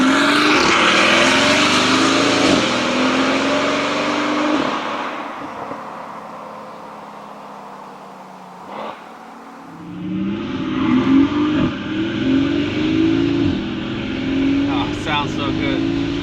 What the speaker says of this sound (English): It has a V12, it sounds amazing.